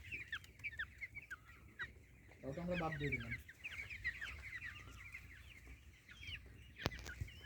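Farm chickens that recently had slight breathing trouble cluck and chatter in quick, faint bursts, with a brief louder call, while people talk nearby.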